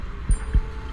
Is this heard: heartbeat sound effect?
yes